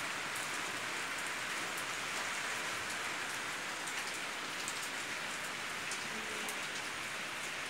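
Steady rain falls outside a hotel in Mussoorie, a constant even hiss of drops with faint nearby patters and no talking throughout.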